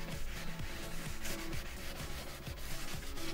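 Fine sandpaper rubs back and forth along the edges of a piece of furniture being prepped for chalk paint, giving a soft, steady scratchy rasp in quick repeated strokes, close and fairly quiet with no talking.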